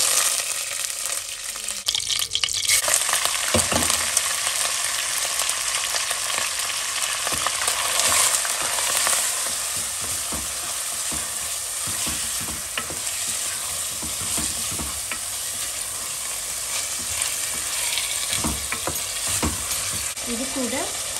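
Olive oil frying for a Kerala-style chicken curry, a loud continuous sizzle with stirring scrapes and occasional clinks throughout, close to the pan, with faint water sounds and no clear speech.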